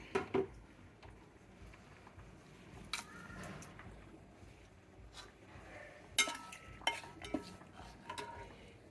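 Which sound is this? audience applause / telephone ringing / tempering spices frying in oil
tempering spices frying in oil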